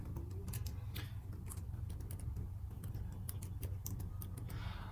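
Someone types a terminal command on a computer keyboard, a run of quick, light key clicks at an uneven pace over a steady low hum.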